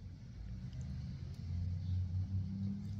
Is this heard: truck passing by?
yes